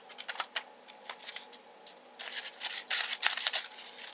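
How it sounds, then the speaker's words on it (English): Leatherman Surge multitool scissors snip paper in a quick run of crisp cuts, quieter at first and then louder and denser, close up. "These are really big scissors."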